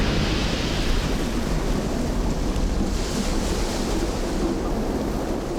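Heavy surf roars against an inhabited coastline in a dense, continuous wash of crashing waves, loud and steady with wind buffeting throughout.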